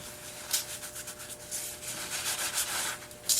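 Steady, soft rubbing strokes across the surface of an air dry clay leaf bowl piece, a close, even scratchy rhythm with slight swells and no talk.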